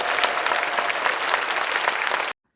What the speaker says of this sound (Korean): 여러분 크게 박수 한번 합시다